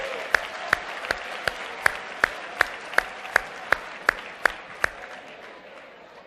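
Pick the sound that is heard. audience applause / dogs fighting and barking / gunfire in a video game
audience applause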